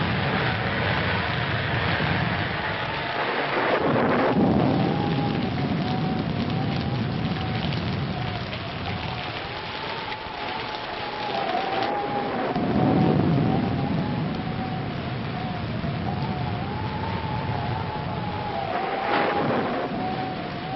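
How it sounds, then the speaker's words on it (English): A thunderstorm pours steady rain while deep rumbles of thunder roll in and swell several times, loud and close, mixed with a wavering tone and no voices. "we'd better get out of here before this storm gets any worse"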